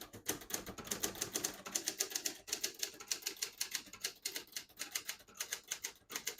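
A 1967 Hermes 3000 portable typewriter is typed on at close range, a quick, irregular run of crisp key strikes with brief pauses between bursts.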